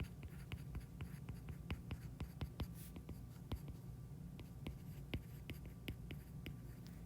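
Pen or pencil writing on paper while setting out a maths optimization problem, a quiet run of scratchy strokes and taps at close range with no speech.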